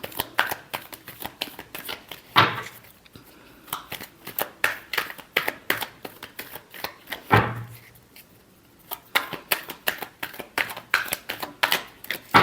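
Tarot cards being shuffled by hand, close and crisp, in quick rhythmic bursts of riffling with two sharper bridge-like flurries, continuing steadily without any talking.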